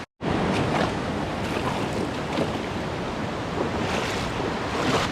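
Waterfalls pour straight out of the rocks beside a river on Mount Kilimanjaro, giving a steady, loud broadband rush of falling water with wind buffeting the microphone throughout, no voices.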